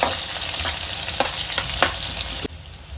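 Onions frying in oil for chicken chilli, a loud close sizzle with several scraping strokes of a spoon stirring the pan, then the hiss softens abruptly; no one speaks.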